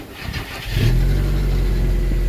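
A video game car engine cranks briefly, then catches and settles into a steady idle rumble, close and fairly loud.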